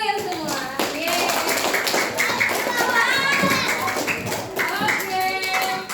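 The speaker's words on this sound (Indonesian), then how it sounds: "Beri tepuk tangan untuk kalian semua." Children clap together in an elementary classroom, rapid and busy hand claps mixed with excited kids' voices and chatter throughout, fairly loud and close.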